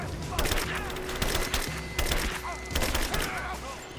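Gunfire in Rise of the Tomb Raider comes as rapid, sharp volleys of shots in several bursts, with ricochet whines and thuds and brief voices in between.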